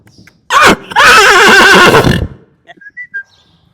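A young mare gives a loud, close whinny at a canter: a short burst, then a long quavering neigh of about a second and a half, followed by a few faint high whistled notes and small knocks.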